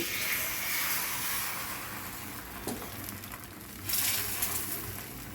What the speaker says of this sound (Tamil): நம்ம தோசை ஊற்ற ஆரம்பிச்சிடுவோங்க நம்மளுக்கு கல் சூடாகிடுச்சுங்க